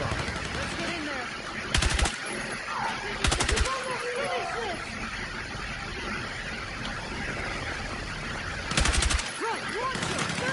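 Gunfire and machine-gun bursts in the Battlefield 6 campaign: a few short, loud rattling bursts stand out at intervals above a constant noisy wash of distant battle ambience.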